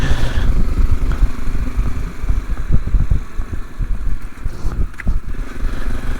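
A motorcycle engine idles steadily and loudly up close, a low rough throb running the whole time with slight surges, no talk over it.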